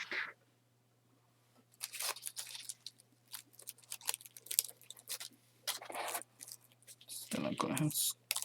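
Scissors snipping through a bendable wired floral spray, a series of close, crisp cuts and rustles among quiet stretches.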